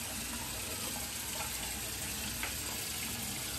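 An alum block is rinsed under a running tap, a steady, close rush of water that keeps an even level throughout with no pauses.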